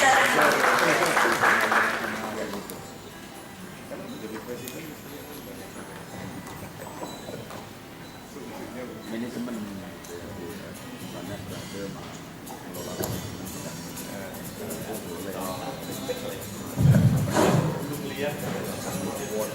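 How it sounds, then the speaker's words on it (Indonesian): Applause rises from a seminar audience at an Indonesian national seminar on the ASEAN Economic Community, loud in the first couple of seconds, then fading into a murmuring hall with scattered noise and a brief thump near the end. "Tepuk tangan bagi"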